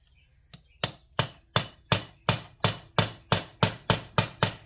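Part of a Farmall diesel injection pump struck with a hammer, about a dozen sharp metallic taps in a steady even rhythm, each crisp and close with a short ringing decay.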